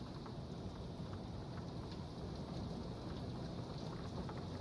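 Heavy rain pours steadily in a thunderstorm as gusts blow it off a deck, a constant dense hiss with faint rumble beneath, no voices.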